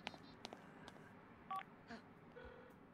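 Phone dialing tones in The Sims 4 (Cats and Dogs), a few short electronic tone bursts over quiet game background ambience with no speech.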